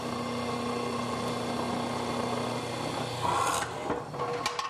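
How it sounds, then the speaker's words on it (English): A steady whirring drill bores into wood with a rasping, grinding tone, ending in a few sharp clatters. "what I'm going to do is drill these holes."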